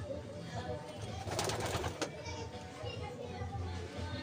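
Racing pigeons, including a bird of a Victor Lim bloodline with a cold in one eye, make soft cooing and fluttering sounds at a loft, with children's voices and other chatter in the background.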